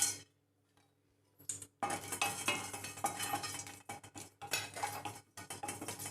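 Whole biryani masala spices dry-roasted in a hot kadai, a near run of scraping and stirring clatter with brief pauses, starting after a quiet opening.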